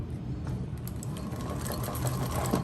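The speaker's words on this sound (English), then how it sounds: "this machine doesn't quite have as much pull as my Juki, so I'm having to do a bit more work to get all the layers through than I'm used to" A TechSew 4800 Pro sewing machine stitches through thick layers of material, giving a close, steady mechanical whir with rapid needle knocking that rises slightly toward the end.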